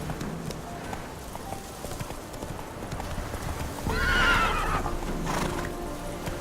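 Roach, a horse in The Witcher 3, gallops with rapid rhythmic hoofbeats, then gives a loud, close whinny midway through, followed by another softer neigh.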